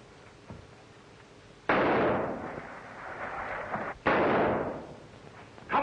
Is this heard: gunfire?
yes